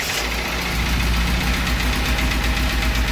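A 1982 Triumph TR7 engine, one with noise issues, runs at a steady, close, loud idle with a rough, knocking rumble throughout and no voices.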